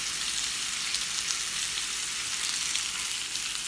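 Pork loin sizzles in a pan with two heads of garlic, a steady, loud, close frying hiss with crackles throughout and no talking.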